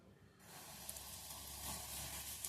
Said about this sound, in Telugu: శనగపిండిలోనైతే 2 స్పూన్లు ఆయిల్ మరిగించుకొని వేసుకోవాలండి.